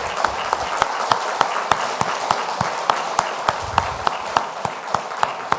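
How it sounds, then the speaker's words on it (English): Audience clapping for fellowship participants at a sustainability celebration, sparse and loud with distinct individual claps in an uneven rhythm, fairly close, with faint murmuring beneath. "Okay, please give them a big round of applause"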